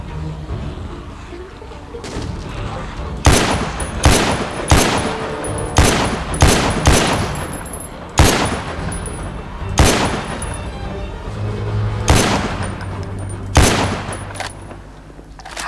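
Gunfire in the zombie game The Walking Dead: Survival Instinct: about a dozen sharp, loud shots in irregular bursts and pairs over a steady low background, with no talking.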